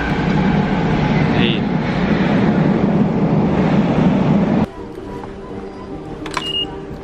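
A steady, loud rumble of a train rolling along rails in Fukuoka, Japan fills most of the stretch, then drops to a quieter hum with a brief high squeal.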